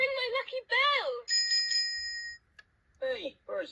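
A toy model train set bell rings in a short bright burst between childlike character voices from a talking toy, the chime sustained for about a second.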